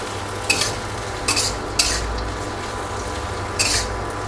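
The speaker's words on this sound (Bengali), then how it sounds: "পেঁয়াজটা ভাজা হচ্ছে," Chopped onion frying in a pan after fish has been fried, a steady close sizzle broken by a few sharp scraping stirs of a spatula.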